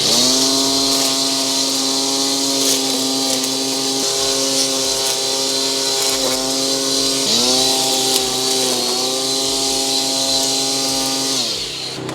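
An electric grass trimmer cuts grass with a loud, close, steady whine. Its pitch dips briefly a few times as it bites into growth, then recovers, and it runs alone without talk.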